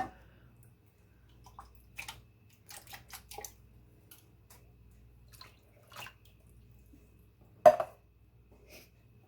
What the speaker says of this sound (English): I'm probably going to add in a little bit more water.